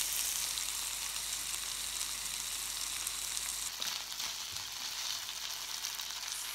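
Food fries in a pan in a home kitchen, a constant broadband sizzle heard from a short distance, steady throughout with a slight shift in tone partway and no voices.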